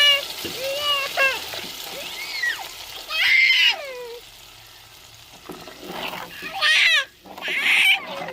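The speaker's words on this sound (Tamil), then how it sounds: "தேவையான தண்ணியும் சேர்த்துக்கிறோங்க" Water is poured into a sizzling pan of ground masala for a vegetarian fish curry, giving short bursts of splashing and frying hiss up close, broken up by voices talking over it.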